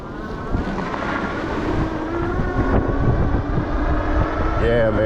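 A modified e-bike fitted with a new controller accelerates, its motor whine rising in pitch beneath heavy wind rush, close and steady throughout.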